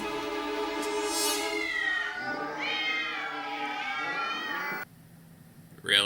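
Several cats meow in a film scene set in a room full of cats, with long, drawn-out wails following one another, fairly loud and close, before the sound drops away near the end.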